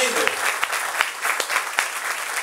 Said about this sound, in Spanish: Denle un aplauso a la Virgen.